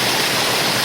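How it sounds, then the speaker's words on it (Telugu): A steady, loud rush of a waterfall at a picnic spot near Visakhapatnam, a dense broadband roar with no pauses and no voices. "జలపాతం యొక్క చప్పుడు మన గుండెల్లో ఆహ్లాదాన్ని నింపుతుందని తప్పక చెప్పచ్చు"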